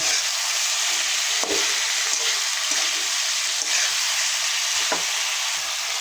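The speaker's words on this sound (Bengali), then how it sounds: "সবজিগুলো ভালো করে কষাই নেব মশলার ভিতরে।" Cauliflower, tomato and potato are stir-fried in masala for a catla fish curry, giving a loud, continuous close-up sizzle with a few spatula knocks against the pan and no speech.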